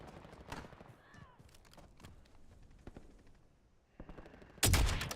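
Bursts of gunfire from a video game firefight, scattered sharp shots through the middle with a loud, dense volley at the end, heard without talk.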